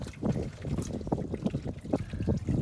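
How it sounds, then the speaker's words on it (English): Rainwater draining from a car's oil pan drain, a continuous splashing, gurgling trickle with uneven bursts, close and fairly loud, with no talk. "Oh, there's water everywhere."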